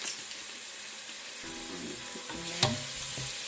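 Extra lean ground beef (93% lean, about a pound) sizzles steadily in a hot pan for pasta fagioli, a constant close frying hiss with a few stirring clatters and pops, no talking.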